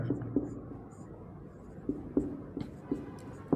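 A pen scratches on paper while a maths problem is worked out, giving close, quiet strokes in short bursts with brief pauses between them.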